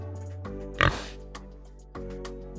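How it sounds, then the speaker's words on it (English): A single short pig oink or snort grunts out once over a steady tonal background hum, with quiet stretches before and after. "A pig. Pig. Pigs make the sound."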